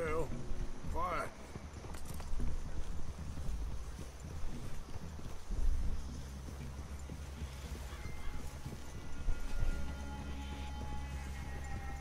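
Horse hooves clip-clop softly in Red Dead Redemption 2, a steady plodding rhythm running under the game's ambient wind and outdoor noise, with faint voices and a few tonal sounds drifting in.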